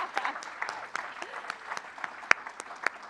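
Modest audience applause at a challenge finals event for a solver team, scattered distinct claps over a soft wash of clapping, moderately quiet and steady throughout.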